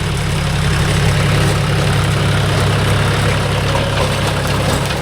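A John Deere 5104 tractor engine pulling a 36-blade rotavator runs steadily and loudly up close, a constant low, heavy drone with a rhythmic throb and no pauses throughout.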